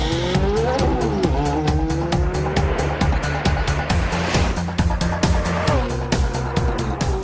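A Ferrari and an electric car in a quarter-mile drag race: a loud, strained engine roar with rising and falling revs from the gas car, steady and close, over a continuous rumble.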